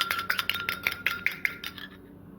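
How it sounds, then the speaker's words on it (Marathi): Fork or whisk tapping rapidly against a bowl while an egg is beaten for rice-flour ghavane batter, about a dozen quick, bright clinks in steady rhythm that trail off, close and alone. "आणि आता ते फेटून घ्यायचं छान फेटून घ्यायचं"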